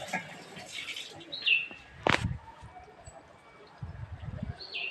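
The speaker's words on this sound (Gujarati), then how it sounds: "કબૂતર ને કાગડા ને બધા બેઠા છે." Pigeons and crows calling outdoors, a few short chirps and a flutter of wings at moderate distance over soft background noise.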